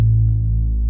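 A thick, throbbing Reese bass synth holds one sustained low note for under a second, steady and loud with a slow wobble and no other sounds.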